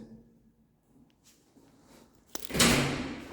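A manually operated elevator door in a holiday apartment building in Croatia slides and shuts with a loud rattling bang near the end, after quieter handling noises.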